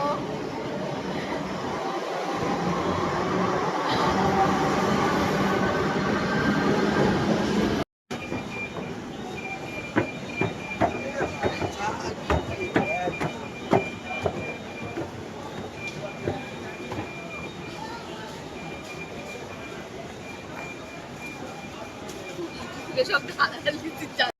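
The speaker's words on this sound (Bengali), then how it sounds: "এই যে আমার মেট্রো এবার এখান থেকে চলে যাবে" A metro train pulling away from a station platform, a loud rumbling roar at first, then rattling wheel clicks and squeals as it departs, with people talking nearby.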